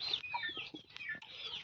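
Newly bought hens in a village shed near Jagtial cluck in a quick run of short, close calls, with a few higher squawks mixed in and no talk.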